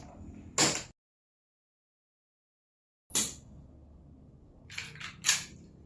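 A Double Bell M1911 gas airsoft pistol with metal frame and slide firing BBs, giving sharp close pops: one shot, a long silent pause, another shot, then a quick pair of lighter snaps.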